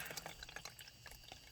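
Homemade jun kombucha is poured out of a container, giving faint, irregular splashes and drips in quick uneven bursts, close and quiet, with no voices.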